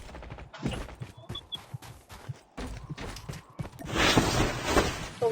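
Gunfire in a video game: scattered sharp shots and bursts spread unevenly across the clip, building to a denser volley near the end, with no speech.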